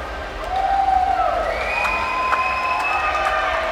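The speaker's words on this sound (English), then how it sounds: "with the crowd showing their appreciation" Crowd applause and cheering at an ASEAN Games women's 400m freestyle S9 swimming final, a steady, fairly loud roar that swells early and holds throughout under a commentator's voice.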